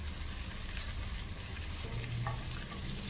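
Red onion sautéing in a pan gives off a steady, close sizzle that runs evenly without a break, with no voices over it.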